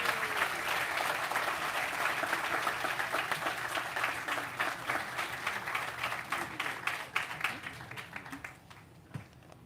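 An audience at a life achievement award ceremony gives sustained, moderately distant applause that gradually thins toward the end, with a few isolated claps at the close.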